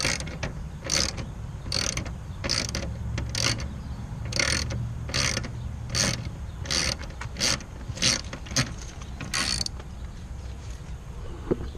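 Sheet metal screws being backed out of a plate frame with a hand tool: a steady run of sharp ratcheting clicks, about a dozen evenly spaced, close and fairly loud, with no talking.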